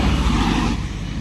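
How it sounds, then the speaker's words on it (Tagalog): Road traffic with many cars and trucks passing close by near a roadside by lakes, a loud continuous engine rumble and tyre roar that eases slightly toward the end. "maraming sasakyan"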